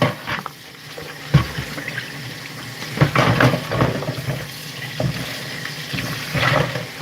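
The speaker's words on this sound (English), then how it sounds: "We're going to wash them up." Running water from a kitchen tap washing two coconuts before cooking Jamaican drops pastry, a steady splashing stream with bumps and knocks as the coconuts are handled, no voices.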